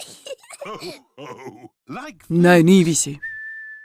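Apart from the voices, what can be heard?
whistling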